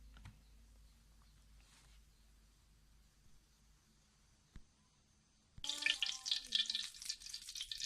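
Duck pieces fry in a pan until golden for a steamed duck dish. A quiet, faint stretch with a few clinks gives way partway through to a sudden loud, crackling sizzle that keeps spitting to the end.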